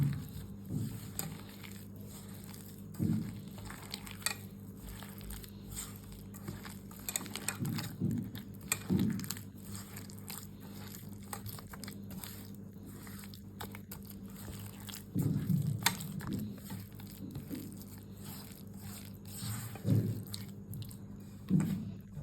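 Palm fritter batter with semolina and flour mixed by hand, soft quiet squishing and squelching bursts at irregular intervals, close up over a faint steady background hum.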